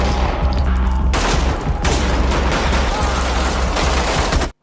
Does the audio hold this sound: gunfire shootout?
yes